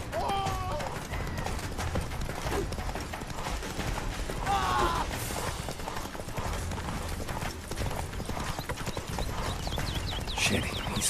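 Hooves of Roach, the horse in The Witcher 3, pound in a fast continuous gallop during a chase, loud and close amid clattering game effects.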